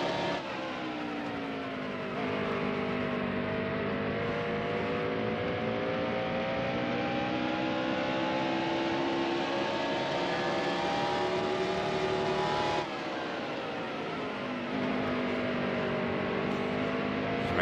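Stock car engine from the NASCAR Heat Evolution racing game at Richmond, a loud sustained drone with steady harmonics that rise and fall in pitch through gear changes and throttle shifts, running continuously with no talk.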